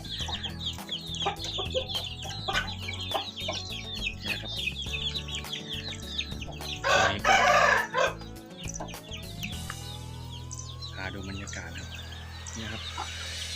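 Hens, chicks and a rooster on a small farm cluck and chatter busily nearby, with a loud burst of crowing midway, amid steady low background hum.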